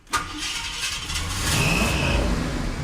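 An old Ford F100 truck engine roars steadily as the truck drives off on a lap, the revving swelling louder toward the end, close and alone with no talk.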